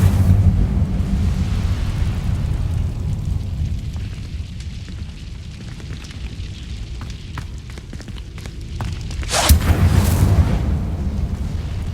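A fire spell bursts in Hogwarts Legacy, a loud whooshing roar with a sharp flare near the end over a steady rumbling game background, with no talking.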